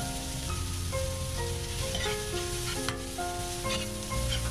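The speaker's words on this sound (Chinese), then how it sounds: "在锅里放一点猪油，倒入刚才准备好的包锅用的葱姜蒜和辣椒" Scallion, ginger, garlic and chili fry in lard in a wok with a dense, continuous sizzle and frequent stirring scrapes throughout.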